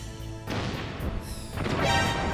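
The crane is destroyed in the Metal Gear Solid video game, with loud crashing, smashing game sound effects that come in two dense bursts over a constant noisy backdrop.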